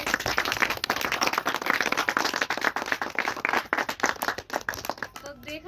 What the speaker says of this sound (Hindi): तो एक बार जबरदस्त तालियां हो जाए इनके लिए